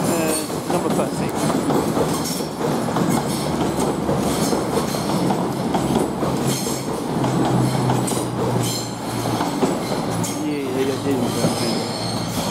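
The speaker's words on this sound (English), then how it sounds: "An 8-car train goes away." A CrossCountry 8-car train departs York station bound for Edinburgh Waverley, its wheels squealing and clattering over rail joints in a loud continuous rumble with a low engine drone throughout.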